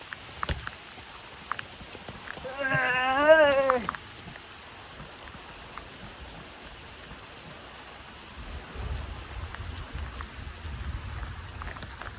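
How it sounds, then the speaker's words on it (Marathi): Rain falls steadily throughout near Kanchan Waterfall in the Sahyadri hills, with rainwater streams flowing, a wavering call rising briefly early on and a low rumble building near the end. "तुम्ही बघू शकता पावसाच्या पाण्याचे असे पाठ वाहत आहेत"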